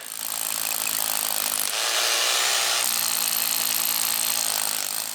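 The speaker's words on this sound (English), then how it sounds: "the precision job of getting all the holes drilled" A power drill bores holes in timber while building a small wood cabin, a buzzy grinding tone with one harsher burst in the middle, close and steady, no talk.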